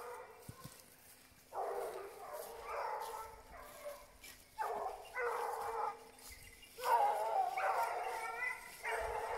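A hunting dog barks and yelps in repeated bursts during a wild boar hunt, fairly close and loud, with short pauses between volleys over quiet outdoor background.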